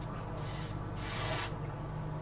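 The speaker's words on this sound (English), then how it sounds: "I'm going to try spraying it on the brush like it says." Two short hissing bursts of makeup spray onto a brush, the second longer, close up over a low steady hum.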